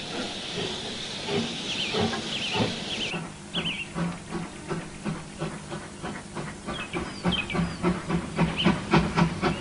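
Steam train hissing steadily as it changes direction, with a loud burst of steam giving way to rhythmic chuffing pulses and rail clatter that build toward the end.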